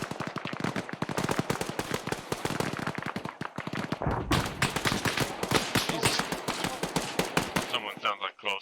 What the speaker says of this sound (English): Contact close north right now, just some sporadic fire north-northeast.